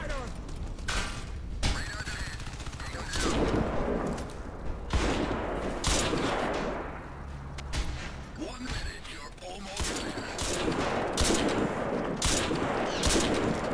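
Gunfire in Crysis 3 multiplayer, a sniper rifle among repeated loud shots and bursts with mechanical clatter, dense and close, with someone talking now and then over the shooting.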